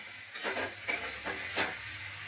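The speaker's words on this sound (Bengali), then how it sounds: "জল ঝরিয়ে রাখা মাংসটা এবার আমি কড়াইয়ের মধ্যে দিয়ে দিচ্ছি।" Drained meat going into a hot kadai over tomato and spice masala, giving a steady hiss with several louder sizzling bursts as the pieces hit the pan.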